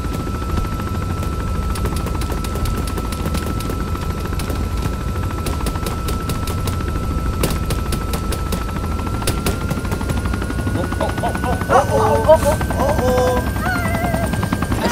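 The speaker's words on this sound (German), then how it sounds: "Hubschrauber kommt nah" A military helicopter in the game Arma's Sahrani escape mode closes in with a steady rotor drone and thrumming blade chop. Bursts of distant gunfire crackle throughout, and players talk over it.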